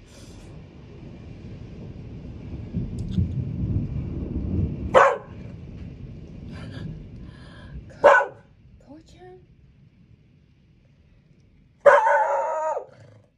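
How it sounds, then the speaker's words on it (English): A dog barks at a thunderstorm, three loud, separate barks spaced a few seconds apart, with a low thunder rumble and quieter background noise between them. "He's just barking at the thunderstorm"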